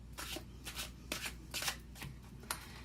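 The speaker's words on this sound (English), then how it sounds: "I'm going to pick 3 life purpose cards" Life purpose cards are shuffled close by in a quick run of soft riffling bursts, several distinct shuffles over a few seconds with no talking.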